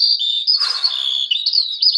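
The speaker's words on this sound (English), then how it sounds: "the sound of a skylark singing" A skylark sings over open British grassland in a continuous, high, liquid warble that is loud and close, with a brief rustle partway through.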